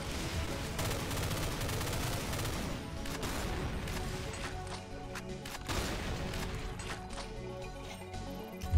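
Rapid, sustained weapon fire in Doom 2 running the Project Brutality mod: dense, loud bursts of shots pile on top of one another for several seconds with almost no gaps.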